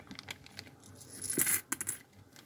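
Collectible coins handled and dropped, giving a string of sharp metallic clinks and jingles at irregular intervals, close and clear with no talking.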